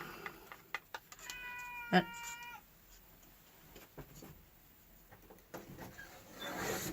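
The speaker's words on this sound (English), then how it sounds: "going to have to shut that dumb cat out of here because he's being a pain" A house cat lets out one drawn-out meow, fairly close and clear, among scattered clicks and handling noises in a quiet room, with a person saying a word just before.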